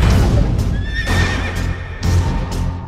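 A horse neighs loudly and close, a long shrill whinny with harsh breathy bursts and hoof clip-clops, with no voices present.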